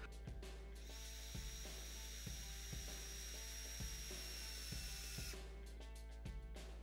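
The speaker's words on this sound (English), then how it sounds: "angle the drill slightly toward the center stripe to drive the screw into the insert" A power drill whirs in short repeated bursts, each run ending with a sharp mechanical catch as screws are driven into inserts of a rubber fastening system splice, steady and close with no talking.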